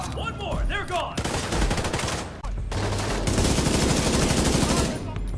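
Heavy automatic gunfire in The Division 2 video game: sustained, loud bursts of rapid shots over a busy battle soundscape, with one brief break partway through before the firing resumes.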